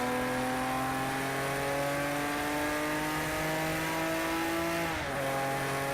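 A flat-six Porsche 911 Carrera RSR race car engine in a video game drones with a steady rising rev, a smooth layered tone climbing gradually before a quick dip as it shifts, loud and continuous.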